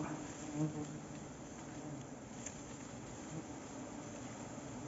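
Wasps buzzing around their nest, a faint, steady drone that carries on for the whole stretch with no voices over it.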